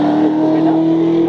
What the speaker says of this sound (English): 5-litre V8 engine Ford Mustang from 1960.